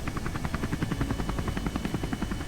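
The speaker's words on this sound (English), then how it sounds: "we don't need the helicopter noise right now" Rotor noise from an autogyro in Kerbal Space Program gives off a steady, rapid chopping pulse, loud and continuous over a low engine rumble.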